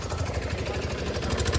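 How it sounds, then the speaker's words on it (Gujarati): A diesel engine on a chhakda three-wheeler idles with a steady, rapid low chug, near and fairly loud, with no one talking. "વાહ ભાઈ સકડાનું એન્જિન છે ડીઝલ"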